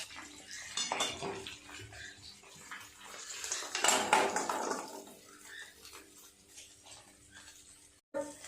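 A metal kadai used for frying fish heads is scrubbed and rinsed in a home kitchen. Water splashes and runs steadily, with clattering metal and utensil scrapes close by, then a sharp knock at the end.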